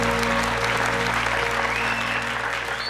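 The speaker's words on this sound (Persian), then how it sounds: "دوستانم خدا خیلی خوب تشویق میکنن دو اشتراک کننده ما را" Studio audience applause on an Afghan game show, a steady, dense wash of clapping that holds at full strength for the whole stretch, with a faint tonal hum running underneath.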